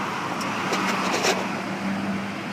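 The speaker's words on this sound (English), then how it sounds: "I'm gonna roll the Chevy back for you." A 2005 Chevrolet Silverado 1500 work pickup truck with surface rust rolls back, its engine humming steadily at close range with a faint tonal whine and light road noise.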